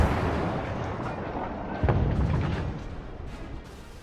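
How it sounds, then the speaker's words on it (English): Warship guns fire in World of Warships, a dense, rumbling barrage with a heavier boom near the middle, fading slowly over a few seconds. "I have to adjust my fire towards the front, turn my ship so I can get all my guns on him"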